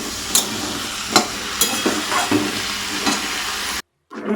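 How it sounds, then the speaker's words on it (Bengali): Potatoes and pointed gourd sizzle steadily in a wok, punctuated by several sharp clinks of a stirring spoon, before the sound cuts briefly to silence near the end. "একটু ভাজতে দিয়েছি আলু পটলটা"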